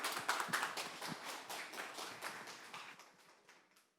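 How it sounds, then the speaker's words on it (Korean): An audience at a Korean youth culture festival stage show claps in a dense burst of applause that starts strong and gradually fades out over a few seconds, with no talking. "큰 박수 부탁드리겠습니다"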